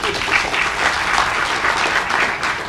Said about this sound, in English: Can we give Vicki and her team a round of applause?